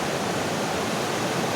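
Water rushing over a river dam, a loud, dense, unbroken roar of flowing water with an even texture and no voices.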